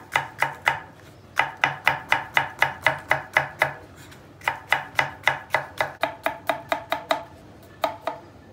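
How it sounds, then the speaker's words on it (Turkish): Knife chopping onion and red and green peppers on a board: rapid, steady runs of sharp close taps in three bursts with brief pauses, no talking. "Soğanımızı doğruyoruz."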